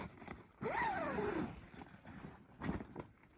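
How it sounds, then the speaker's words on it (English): The zipper on a hot tent set up for -40c winter camping runs open with one long quick pull, then a shorter zip follows a moment later, close and crisp against light background noise. "I want to make sure that the zipper will still open and close freely"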